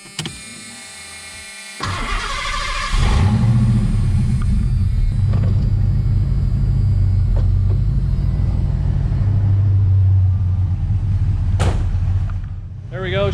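A Ford Foxbody Mustang engine cranks briefly and fires up, then settles into a loud, steady, slightly uneven rough idle that rumbles on for about ten seconds, with a faint click near the end.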